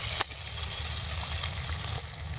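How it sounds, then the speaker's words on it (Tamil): Onions and tomatoes sauté in a pan for an egg chapathi masala, giving a steady close sizzle and crackle with a couple of sharp pops and no talk. "இந்த வெஜிடபிள்ஸை நல்லா வதக்க போகணும்."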